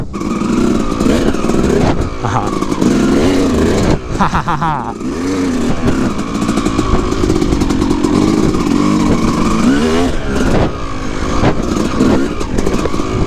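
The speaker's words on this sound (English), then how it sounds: "I've got my YZ250 finally back in action, back in one piece." Yamaha YZ250 two-stroke dirt bike riding in a sand pit, its engine droning loud and close throughout with rising and falling revs, and a voice talking over it in places.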